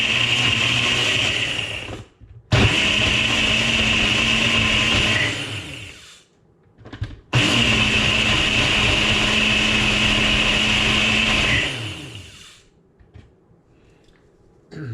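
A countertop blender chops frozen berries for a triple berry smoothie in two loud, sustained whirring runs, each several seconds long and separated by a brief pause, with the motor's whine dropping away at the end.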